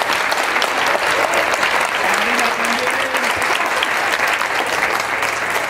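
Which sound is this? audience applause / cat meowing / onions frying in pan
audience applause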